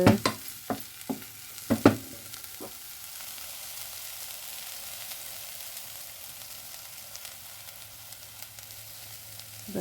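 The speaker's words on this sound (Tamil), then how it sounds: "கொத்தமல்லியில் கொஞ்சமாக போட்டு வதக்கி அப்படியே இறக்க வேண்டியதுதான்" Coriander leaves sauté in a pan for a dried fish curry cooked with mango, opening with several sharp utensil clinks and stirs, then settling into a steady, soft sizzle.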